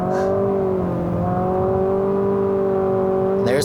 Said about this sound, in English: There's the CVT kind of behaving like a CVT. It's just not very pleasant sounding, but it does do fake shifts.